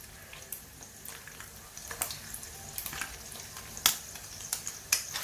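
Boiled eggs lightly frying cut side down in a pan for egg curry, a soft steady sizzle and crackle with scattered sharper pops and spits, fairly quiet and close, no talking.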